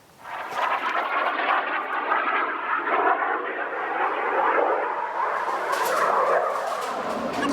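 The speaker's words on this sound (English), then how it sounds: "now that the plane's passed and the truck on the road's passed" Airplane passing overhead near a disc golf course, a broad sustained roar that holds steady and swells slightly, with a truck on a nearby road passing at the same time.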